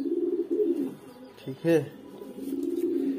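Male pigeon coos in soft, low, rolling pulses close by, a steady throaty burble before and after someone briefly speaks.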